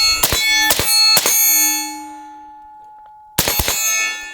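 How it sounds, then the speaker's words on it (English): Suppressed rifle shots strike steel targets outdoors: three quick sharp clangs ring out with a lingering metallic tone, then after a pause another burst of impacts. "We'll shoot a little bit of steel, a little bit in the dirt just to get an idea on sound here."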